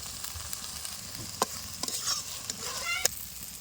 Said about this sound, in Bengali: এবার একটু জল দিয়ে কষিয়ে নেবো মশলাটা